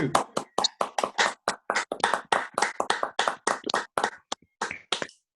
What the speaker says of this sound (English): if anybody would like to clap, please do.